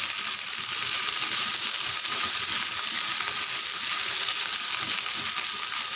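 Okra (ladies finger) pieces frying in a ladleful of oil, giving a steady, dense, bright sizzle that holds evenly throughout with no voices.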